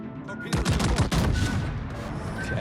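Warship guns firing in a naval battle video game, a rapid volley of heavy booming shots clustered together, loud and close, followed by a fading rumble.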